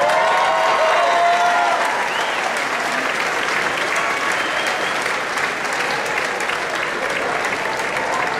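A concert crowd in San Antonio applauds an opening rock band, with loud, sustained clapping and cheering, a few whistles rising briefly early on before settling into an even roar.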